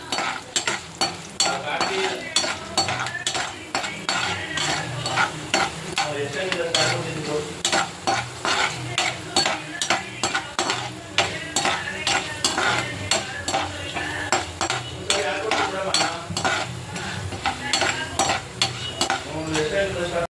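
Urad dal fries in hot oil while a metal spoon stirs rapidly against the pan, giving a rhythmic run of clinks and scrapes over a constant sizzle.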